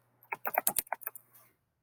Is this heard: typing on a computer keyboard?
yes